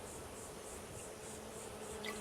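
Bees buzz in the video game Skyrim, a faint, steady pulsing drone with a soft rhythmic wavering, heard alone at low level against quiet ambient background.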